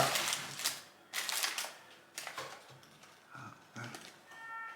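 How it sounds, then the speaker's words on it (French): Paper crinkles and rustles in several short bursts with brief pauses between them, close by, as the wrapper of a ramen burger is opened. "On ouvre le papier comme ça."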